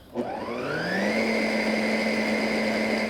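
A blender blitzing grilled corn into a purée, whirring up from a quick start into a steady, loud, high motor whine that holds evenly throughout.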